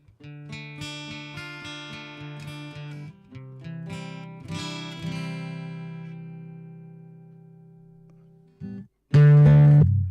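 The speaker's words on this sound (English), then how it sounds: "it actually turns your acoustic guitar into a real actual a recording of an acoustic guitar" Acoustic guitar chords played through a cabinet IR loader on iOS ring out and sustain with a full, slightly processed tone, fading away before a loud final strum.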